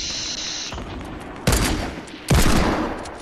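Video-game gunfire in repeated loud broadband bursts, two strong volleys standing out after an opening stretch of quieter shooting, with no talk over it.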